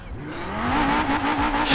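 An Audi RS2's inline-five engine revs in Forza Horizon 4 while its tires squeal through a drift, the pitch rising and falling in smooth sweeps.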